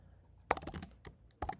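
Someone types on a computer keyboard, two short bursts of rapid key clicks separated by a pause, close and clear with no talking.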